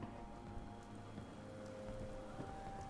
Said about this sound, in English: Did we sleep for good sunny weather? Now we've got rain?